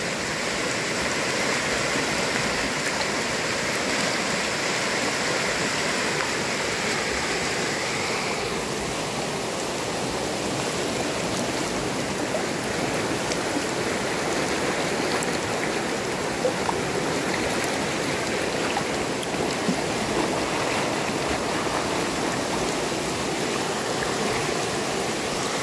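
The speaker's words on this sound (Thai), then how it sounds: "น้ำป่าไหลแรงมากครับข้ามตรงนี้ไม่ได้ครับ" Flash-flood water rushes hard through a forest stream during heavy rain, a loud, steady broadband roar of torrent and rainfall lasting throughout with no voices.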